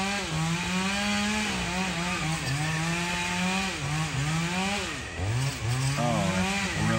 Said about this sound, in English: We're going to head over to Deadline, which is as far away from the chainsaw as I can get.